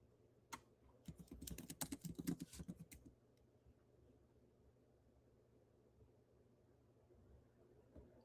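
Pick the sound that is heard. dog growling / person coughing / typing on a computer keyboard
typing on a computer keyboard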